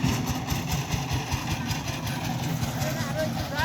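A power tiller engine idles steadily while cargo is loaded onto it at an outdoor unloading point, a continuous low mechanical chugging throughout with faint background voices.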